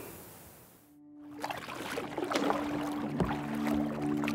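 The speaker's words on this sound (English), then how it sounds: "When you paddle a canoe" A canoe paddle dips and pulls through lake water, making close splashes and gurgling swishes that build after a brief quiet moment, with faint tonal sounds underneath.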